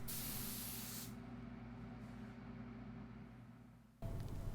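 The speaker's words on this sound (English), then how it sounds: "I think spraying it is going to give me a really beautiful effect" A coating is sprayed onto a restored, once-torn portrait painting in a steady aerosol hiss that runs for about a second, then gives way to a quieter background hum before a sharp louder noise at the end.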